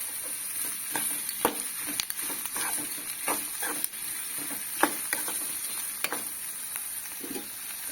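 Drumstick leaves with onion fry in a hot pan on a village kitchen stove, giving a steady sizzle broken by frequent sharp scrapes and taps as the mixture is stirred. No voices are heard.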